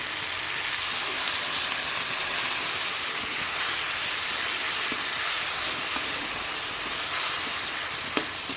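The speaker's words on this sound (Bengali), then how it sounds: "একটু সামান্য জল দিয়ে দিচ্ছি" Water poured into a hot pan of fried hilsa fish with mustard powder bursts into a loud, steady hiss and sizzle that starts abruptly and fills the rest of the clip.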